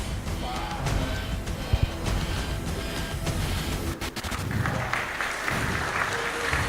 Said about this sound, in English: Let's clap, let's clap